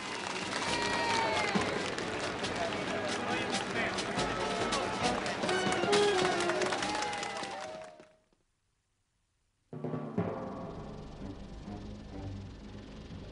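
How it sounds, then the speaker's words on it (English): Crowd in New York cheers and claps for Captain Cousteau and his machines, a dense wash of applause and shouts under music, then a short silent gap before the noisy crowd resumes. "an enthusiastic crowd cheers for Captain Cousteau and his fantastic machines"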